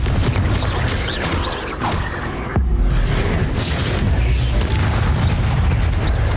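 Confringo fire spells blast in Hogwarts Legacy combat, with dense rumbling booms and crackling magical bursts, a sharp heavy impact midway, all loud and continuous amid game noise.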